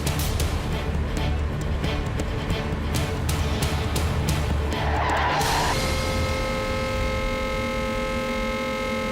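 A car revs and skids out of control as the driver confuses the accelerator with the brake, a loud continuous engine roar with broadband noise that cuts to a steady hum midway.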